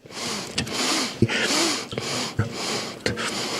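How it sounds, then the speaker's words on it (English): Rapid series of sharp, distinct sniffs, about six or seven in quick succession, loud and close, each one a brief airy burst of breath. "So this is all the sniffs, and none of these are repeats."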